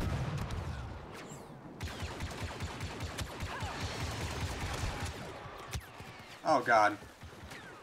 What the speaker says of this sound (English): Where the heck am I getting shot from?